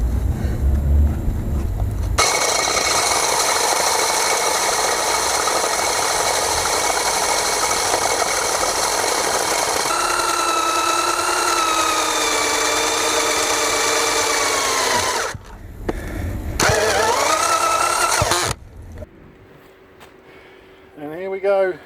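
Power drill with a clutch boring through a house wall while replacing a lead mains water pipe, a loud sustained whining motor drone that shifts pitch, briefly stops and restarts, then cuts out.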